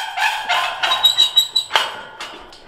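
Ducks in a barn let out a quick run of loud, close, nasal quacks in short overlapping bursts, a few calls piling up before tapering to scattered softer ones.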